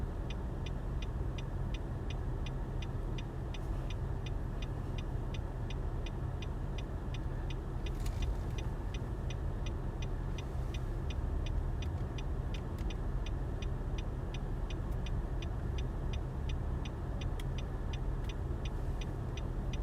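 Car cruising the city streets of the central district of St. Petersburg, captured from inside the cabin: a constant low road rumble and engine drone with a steady rapid ticking above it, no talking.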